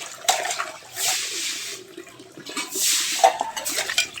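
Dishes are scrubbed with steel wool in a home kitchen, with coarse scraping in two long strokes mixed with clinks of plates and splashes of water, close and fairly loud.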